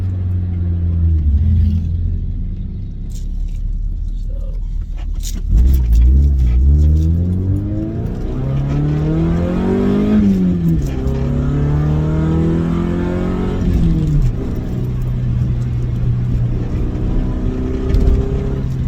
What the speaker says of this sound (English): I'm not real happy with the way the exhaust sounds.